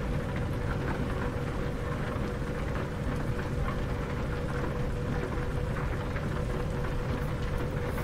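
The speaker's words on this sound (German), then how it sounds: "Da müsst ihr jetzt auch noch das Regenwetter anmachen" Steady rain falls during a thunderstorm in the truck driving game Euro Truck Simulator 2, a dense continuous hiss layered over a low engine rumble, with no voices.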